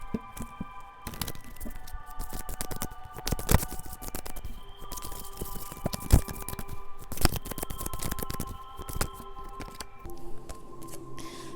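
Tarot cards handled on a table during a reading, a quiet stretch of soft shuffling and sharp flicks and snaps as cards are drawn, with several crisp taps standing out.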